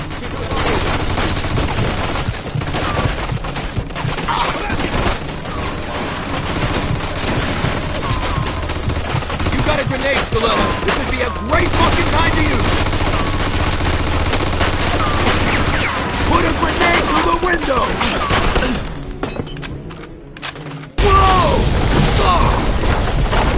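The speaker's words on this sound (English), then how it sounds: "Looks like we found the machine gun." Dense machine gun fire and scattered gunshots in the Mafia 2 video game form a loud, continuous barrage of rapid bursts, with game characters' voices heard between the shots.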